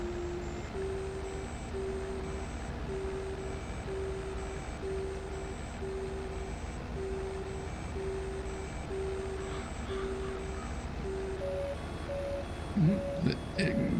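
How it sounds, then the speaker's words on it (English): A baler fill alarm in a farming video game sounds as a steady series of evenly spaced, short electronic beeps that later shift to a higher pitch and quicken, over a constant low machinery hum, with a few clattering noises near the end. "it's got a very weird alarm on it."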